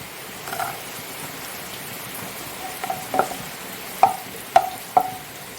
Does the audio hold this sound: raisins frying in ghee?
yes